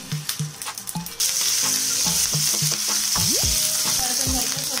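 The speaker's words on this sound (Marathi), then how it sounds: "छान जिरं तळतळतंय" Cumin seeds sizzling in hot oil, a few soft knocks at first, then a sudden loud, steady crackling hiss that carries on close by, with some faint tonal clinks over it.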